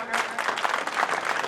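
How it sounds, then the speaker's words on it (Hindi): Audience clapping at a tehsil-level Prajapati talent award ceremony in Bidasar, a dense, steady burst of many hands sustained throughout the short moment, fairly close and loud. "जोरदार ताली से स्वागत।"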